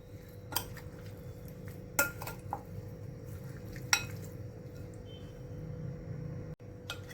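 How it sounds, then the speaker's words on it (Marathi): Chicken marinade ingredients, including lemon juice, mixed in a bowl, with a few sharp clinks of a spoon against the bowl and soft squishy stirring in between, quiet and close. "आता आपण याला मिक्स करून घेऊया"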